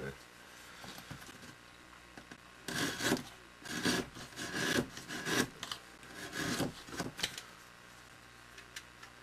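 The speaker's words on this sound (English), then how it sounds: "So now I want to sand all the edges, bevel them all so it's nice." Edges of a small wooden stick sanded and bevelled by hand, a series of quick raspy rubbing strokes in short bursts, fairly close and moderately loud.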